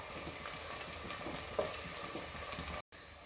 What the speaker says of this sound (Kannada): ಶುಂಠಿ ಬೆಳ್ಳುಳ್ಳಿ ಪೇಸ್ಟನ್ನು ಹಾಕೊಂಡ್ಬಿಟ್ಟು ಒಂಚೂರು ಮಿಕ್ಸ್ ಮಾಡ್ಕೊಳ್ಳಿ.